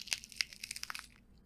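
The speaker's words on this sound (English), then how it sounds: "Crunch." A single crunching bite from an audio-story sound effect, followed by a quick run of small crackling, crushing crunches that fade out, close and dry with no talk.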